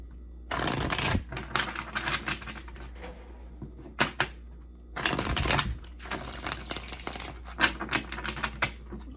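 Tarot cards are shuffled and handled in two bursts of riffling, close and fairly loud, with softer taps and card slaps between and after them.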